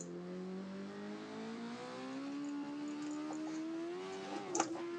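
A 1,000-horsepower car in Assetto Corsa revs hard, its engine note climbing steadily through a long, smooth pull with layered harmonics, loud and close, ending in a brief sharp burst near the end.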